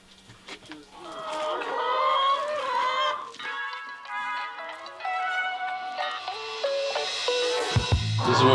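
Hens on a small egg farm cluck and squawk in a varied, chattering chorus close by, with a sharp rustle near the end.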